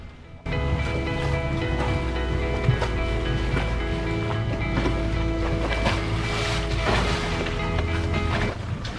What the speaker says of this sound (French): C'est chiant ces vagues, hein?